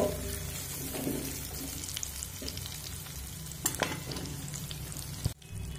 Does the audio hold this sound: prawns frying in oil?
yes